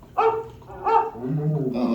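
An animatronic dog barks in Walt Disney's Carousel of Progress at Magic Kingdom, two close, clear woofs followed by a lower whining growl, heard alone without talk.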